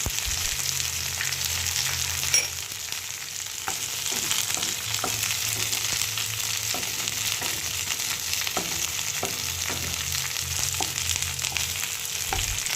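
Black cumin and a halved dried chili frying in hot oil in a wide wok for a rohu fish curry, a steady close sizzle with faint stirring clicks throughout.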